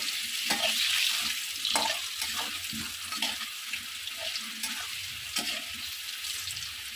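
Potatoes seasoned with salt and turmeric sizzle steadily in a pan while being stirred, cooked for chicken kosha; a continuous close frying hiss with occasional scraping stir sounds and no talking.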